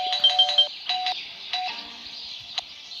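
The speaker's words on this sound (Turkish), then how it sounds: "Zile tekrar basın. Bu zil" A doorbell in the video game Scary Teacher 3D chimes repeatedly, bright electronic ding tones pressed several times in quick succession, clear and close with no talk over them.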